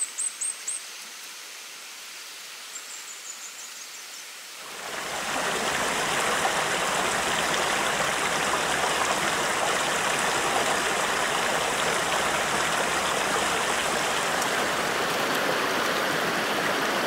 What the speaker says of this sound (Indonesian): Pagi datang, disambut suara sungai yang menyahut.